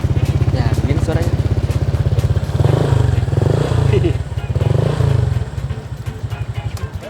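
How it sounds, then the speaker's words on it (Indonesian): Honda Vario scooter fitted with a replica CMS exhaust idles with a close, loud, rapid pulsing putter and rises in several short revs, while people talk over it. "tapi itu emang knalpot yang suaranya enak sih"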